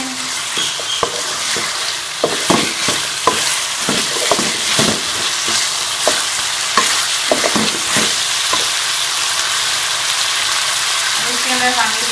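Sliced potatoes (aloo ki katlian) are stirred in a sizzling pan, with a loud steady fry hiss and repeated scraping spoon strokes close up.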